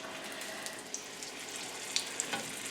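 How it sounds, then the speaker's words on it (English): Meatballs frying in hot olive oil in a pan give a steady, even sizzle throughout, with a few small pops and crackles. "So I'm going to start laying my meatballs inside the pan here."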